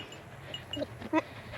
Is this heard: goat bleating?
yes